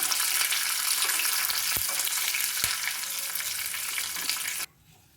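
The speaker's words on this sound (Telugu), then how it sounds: "కరివేపాకు, వెల్లుల్లిపాయ కూడా బాగా వేగాలి." Curry leaves and garlic fry in hot tempering oil for an Andhra tomato pachadi, a loud, dense, close sizzle with a couple of brief stirring knocks, cutting off abruptly near the end, no talking.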